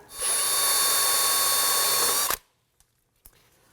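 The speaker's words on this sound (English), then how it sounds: "run that bore brush" A drill spins a bore brush inside a brake caliper bore on a 2003-2014 Volvo XC90 rear brake job, giving a loud steady whine and rasp for over two seconds, then stopping abruptly and leaving a few faint clicks.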